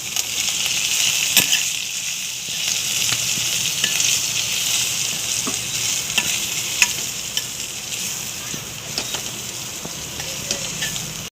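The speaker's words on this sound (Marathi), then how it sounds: "आता आपण हे तेलात परतून घेऊ।" Turmeric and red chili powder fry in hot oil, a continuous bright sizzle with scattered clinks and scrapes of a spoon stirring, close and steady throughout.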